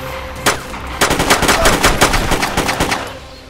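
Pistol shots ring out in the video game DayZ, a single loud report followed after a short pause by a rapid string of closely spaced shots, sharp and near, with no talk over them.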